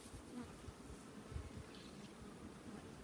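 Honeybees buzzing steadily during a hive inspection at the Dome, a faint, continuous hum of many bees close around the open hive with no voices.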